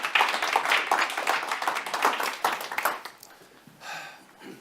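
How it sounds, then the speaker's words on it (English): A small audience claps for a team after a live demo, with sparse, close hand claps for about three seconds before they die away into faint room noise and a brief voice. "Round of applause for the team for doing a live demo."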